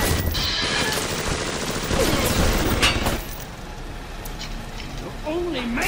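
Rapid gunfire from enemies in the video game BioShock, a dense burst of shots over game sounds with someone talking over it, easing off after about three seconds.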